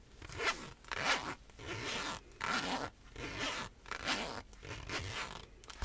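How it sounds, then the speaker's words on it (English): A zipper on a secondhand clothing item in a thrift-store setting is pulled open and closed again and again, giving close, crisp rasping strokes in a steady rhythm of about eight pulls, with no talk. "Let's see if the zipper functions."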